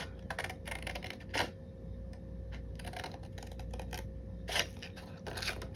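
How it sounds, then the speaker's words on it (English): Scissors cutting a paper chevron shape for a planner spread: quiet, close snips and crisp paper rustles in irregular clusters over a low steady background hum. "I'm gonna cut the chevron with that same kind of width of 4 little floral shapes."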